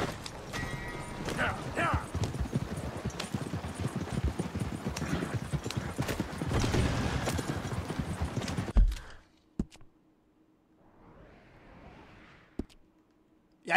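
Rapid horse hoofbeats clatter at a gallop in Red Dead Redemption 2 amid a busy game soundscape with a voice, then stop abruptly, leaving near silence with a few faint knocks.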